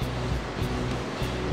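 A steady roaring wash of water from a waterfall in the video game Digital Devil Saga, even and continuous, with no voices over it.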